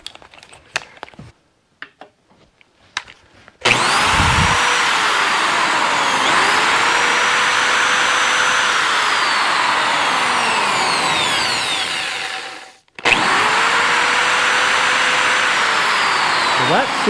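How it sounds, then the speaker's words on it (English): Hammer drill fitted with a 5/8 inch bit, powered from a Bluetti AC180 portable power station, runs loud and steady for about nine seconds, briefly stops, then starts again, after some quieter handling sounds. "So I have my hammer drill here set up with a 5/8 bit in it."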